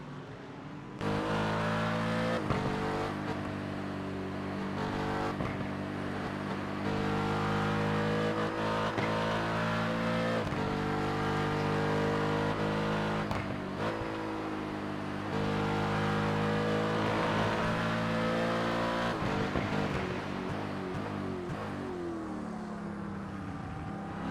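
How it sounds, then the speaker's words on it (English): Onboard a race car in a sports car series round at Sonoma, the engine howls loud and close without a break, pitch climbing and dropping sharply through gearbox shifts for the whole stretch. "Let's go from Tommy Kogan's perspective. Let's get that gearbox."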